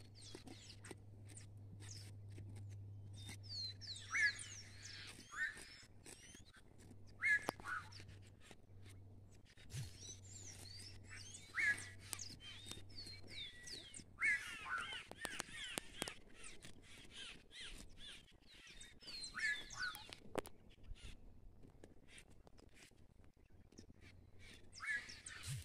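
Guacho birds call near their hanging, sock-like nests on a farm, giving scattered harsh chattering calls at moderate distance over a quiet background with occasional rustles and knocks.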